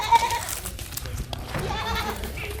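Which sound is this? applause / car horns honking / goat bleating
goat bleating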